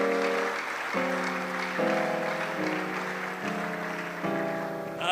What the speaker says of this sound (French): laisse-moi quand même t'acclamer